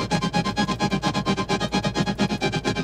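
A resampled granular texture from Ableton's Granulator, with auto pan, reverb and EQ, pulses in a rapid, even stream of short grains, dense and steady without any voices.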